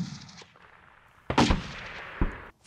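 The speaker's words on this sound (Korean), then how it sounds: "대구역 인근에서 울려 퍼진 갑작스런 총성." Sudden gunshots ring out near Daegu Station during an October street clash: a few sharp, loud cracks with short echoing tails, separated by brief gaps, and no voices.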